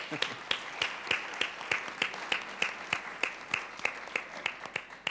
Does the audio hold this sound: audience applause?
yes